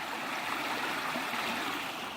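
Fast-flowing stream water rushing through a washed-out forest trail in a national forest, a steady, dense broadband rush that holds continuously and fairly close without pause.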